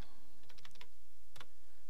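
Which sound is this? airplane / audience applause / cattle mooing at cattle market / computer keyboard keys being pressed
computer keyboard keys being pressed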